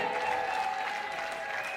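Wedding guests break into steady, continuous applause at a reception, a dense wash of many clapping hands that holds at an even level throughout.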